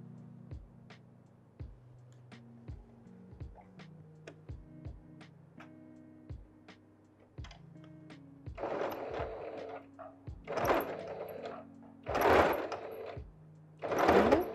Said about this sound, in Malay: Kita akan jahit bahagian ini satu tapak.